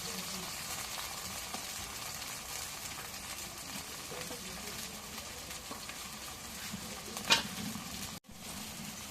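Cumin, garlic and garam masala pastes fry in a pan while fish is cooked with pumpkin, giving a low steady sizzle with occasional stirring scrapes and a brief clatter near the end.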